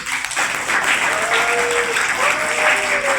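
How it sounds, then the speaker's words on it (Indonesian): An audience at a civic education session in a vocational school hall breaks into steady applause, filling the space at moderate loudness, with faint voices and a tonal whistle-like sound drifting through. "Tepukan untuk Pak Ismet."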